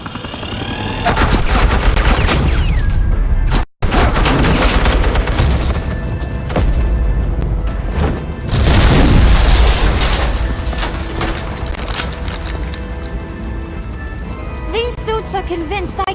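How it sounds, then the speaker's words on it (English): Sustained suppressing gunfire and booming explosions in Batman: The Enemy Within, loud and dense bursts of rapid shots running for most of the stretch with a brief silent break, mixed with rumbling blasts and debris. "This is Agent Quinn, suppressing fire."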